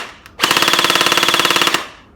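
He-E Punisher V2 toy blaster firing in full auto, a loud, rapid, even burst of mechanical shots lasting about a second and a half, close and alone with no talk.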